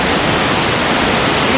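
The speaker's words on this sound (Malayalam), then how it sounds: "ഇത് ബാക്ക്ഗ്രൗണ്ടിൽ കിടലൻ അരുവി കേട്ടോ" A forest stream runs through dense shola jungle near Kanthalloor, heard as a loud, constant rushing wash of water filling the whole moment without pause.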